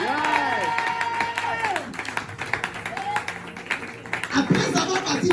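A church congregation claps and cheers to acclaim Jesus during a French-language seminar service: loose rhythmic clapping mixed with crowd noise and sung or shouted voices, with a louder burst of applause near the end.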